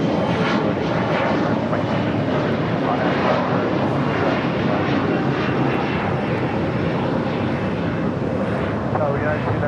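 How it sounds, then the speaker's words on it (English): At LAX, a United Airlines Boeing 787-10 Dreamliner lands with a loud, steady jet engine roar and broadband rush that persists throughout, with wind buffeting the microphone. "United Airlines Flight 399 coming in from Newark in a 787-10 Dreamliner"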